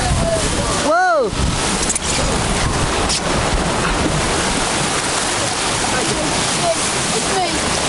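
Rushing, churning water roars around a river rapids ride boat at Alton Towers, loud and close with wind buffeting the microphone, a sharp splash-like burst near the start and faint voices mixed in.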